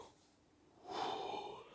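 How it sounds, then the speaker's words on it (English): A woman's yawn rises after a quiet start into a long, breathy drawn-out exhale, close and soft. "I can't stop yawning."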